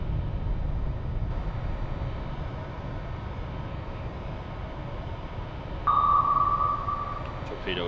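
Active sonar from a torpedo in the Cold Waters submarine simulation game: a single sustained ping tone cuts in near the end over a steady low underwater rumble.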